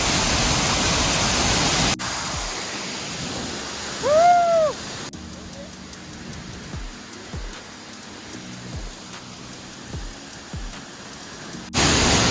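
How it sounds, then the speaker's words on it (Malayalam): A powerful waterfall at Vattavada thunders as a loud, steady broadband roar at the start and end, with a quieter rushing stretch between and a brief whistling tone partway through. "വാട്ടർഫോൾ എല്ലാം കിട്ടില്ലാണ്ട് ഞാൻ കണ്ട വീഡിയോസിലൊന്നും ഇത്ര പവർ ഉണ്ടായില്ല വെള്ളത്തിന്"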